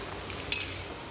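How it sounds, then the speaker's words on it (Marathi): Chopped onion frying in a pan for a puffed-rice chivda snack: a soft, steady sizzle holds throughout, with two light utensil clicks near the middle. "मी नुसता कांदा तळून घेते अगोदर"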